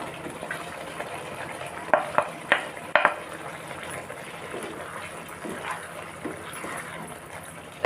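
Stirring boiled potato pieces, tomatoes and mushrooms together in a pan for a mushroom curry, with soft scraping and a few sharp spoon clacks against the pan over a low continuous sizzle.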